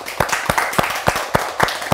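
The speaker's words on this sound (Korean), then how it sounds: "여러분들이 부단한 결심을 위해서 박수를 한번 해봅시다" People attending a Buddhist meditation lecture clap together in a quick, rhythmic run of about eight strong claps, close and loud, with no speech over them.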